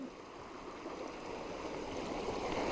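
A small waterfall on a river gives a steady, soft rushing roar, even and unbroken, heard from a short distance with no voices.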